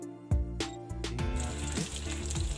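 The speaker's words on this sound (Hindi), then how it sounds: "और ये मैं फ्राई कर लूँगा।" Fish egg pakoras frying in hot oil, Assamese style, with a steady loud sizzle after a splashy start as they drop in, alone without talk.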